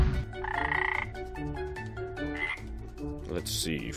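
Cartoonish frog croaks in a Lego stop-motion scene about wizards, loud, repeated and bright over a busy musical backing, with a pair of higher chirpy calls near the end.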